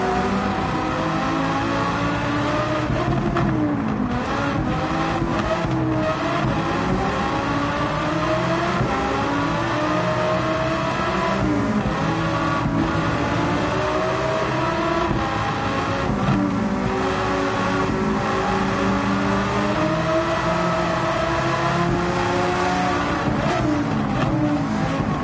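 An engine-swapped Subaru race car and other cars in Gran Turismo 7 on the Nürburgring Nordschleife, loud sustained engine roar close by, pitch climbing and dropping repeatedly through shifts over about twenty-five seconds, no voices.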